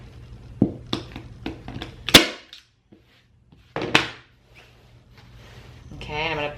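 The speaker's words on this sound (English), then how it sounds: "So you do 1 staple on each side first." A staple gun fires into upholstery fabric stretched over a kitchen chair seat, giving several sharp, close snaps spaced apart, with a voice talking between them.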